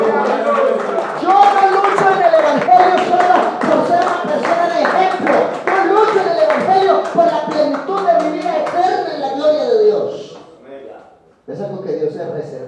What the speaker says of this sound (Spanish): Ese aplauso al Señor